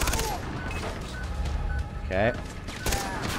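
A machine gun fires in bursts in Far Cry 3, loud and rattling. A short spoken word sounds briefly amid the gunfire.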